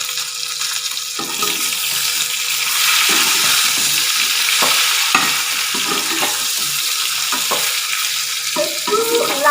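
Mango pickle lightly frying in a pan, with steady sizzling and repeated scraping and stirring strokes of a spoon throughout, close and fairly loud, no talking.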